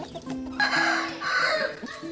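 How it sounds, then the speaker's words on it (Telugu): A single chicken with a respiratory problem makes close, hoarse clucking and croaking calls with a wheezy, rasping edge, in short bursts with brief pauses. "ఈ కోడికేనండి గురక ఎక్కువగా ఉంది, గొంతు కూడా అస్సలు రావట్లేదు"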